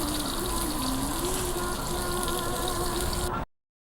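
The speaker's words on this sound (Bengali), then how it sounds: "উচ্ছেটা নুন দিয়ে ভালো করে ভেজে নিচ্ছি।" Bitter gourd frying with salt in hot oil, a steady broadband sizzle that runs unbroken at close range for several seconds before cutting off abruptly.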